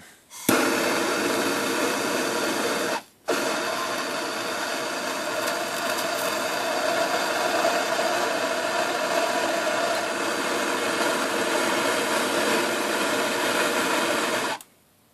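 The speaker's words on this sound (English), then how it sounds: "now I'm going to heat it up with a torch away from the valve stem" A torch roars steadily as it heats a metal aerosol can to tin it with lead solder, a loud, close, broadband hiss that cuts out briefly once and then runs on unbroken until it stops.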